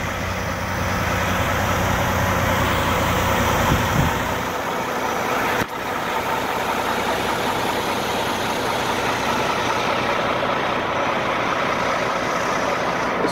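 A 2013 Volvo day cab truck engine, ex-grocery-chain fleet with 655,000 miles, runs steadily close by, a deeper rumble settling into an even idle drone after a brief thump, with no talking.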